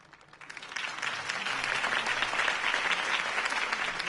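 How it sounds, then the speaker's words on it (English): Applause from a crowd after Harvey Dent's campaign speech in the Telltale Batman video game swells in within the first half second, then holds as a steady, dense wash of clapping. "If only Mr. Wayne, my campaign's largest backer, could have heard that applause"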